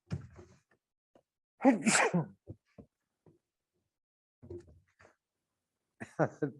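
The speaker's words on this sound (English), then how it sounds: "You probably never saw anybody hide a sneeze like that, did you?" A speaker on a talk show stifles a sneeze that bursts out amid short, sparse vocal sounds and quiet breaths, with brief pauses between them.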